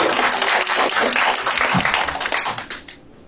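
Audience applause at a children's acting showcase, a dense burst of clapping that holds steady for over two seconds, then thins and fades out at the end.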